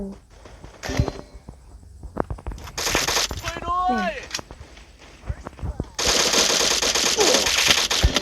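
Bursts of rapid gunfire from the Free Fire video game, a 4v4 match, crackle loudly in separate volleys with pauses between, mixed with other game effects.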